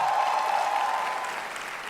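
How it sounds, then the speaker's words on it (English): At a 2019 Greenwich University convocation, a seated audience gives the graduates' parents a round of applause: broad, steady clapping from a large hall crowd, with a faint steady tone beneath it, gradually easing off. "and give them a big round of applause."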